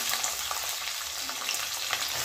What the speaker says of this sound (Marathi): आणि हा छान असा मस्त लाल होईपर्यंत आपल्याला फ्राय करून घ्यायचा आहे